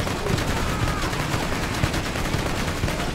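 Weapon fire from Borderlands 2 game combat, a shooter launching missiles in a steady dense barrage of rapid impacts and blasts, loud and continuous for the whole stretch.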